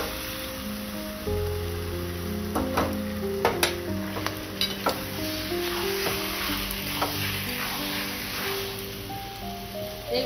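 Marinated chicken sizzles and spits in a hot pan for a Bengali chicken curry made with young jackfruit, a steady frying hiss broken by sharp crackles and stirring clatters, close and continuous with no voices.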